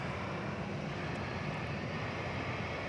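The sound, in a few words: Boeing 757 jet airliner from Minneapolis-St. Paul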